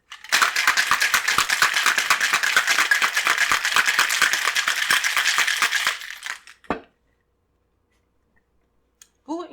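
Ice rattles rapidly and steadily inside a cocktail shaker as a Pisco Sour is shaken hard for about six seconds, followed by a clunk as the shaker is set down and a brief pour.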